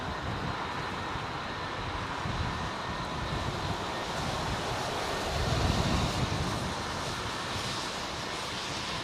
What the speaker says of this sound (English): that is an RB211 powered ship right there, 757.